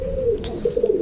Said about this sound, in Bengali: এই যে কবুতর, ছোট্ট কবুতর, বাচ্চা কবুতর